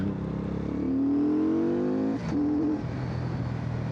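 A Benda Napoleonbob 500 V-twin motorcycle engine revs up loudly in second gear at about 3,500 rpm and steadily climbs in pitch toward 40, briefly drops as the gear changes, then pulls up again, close and continuous.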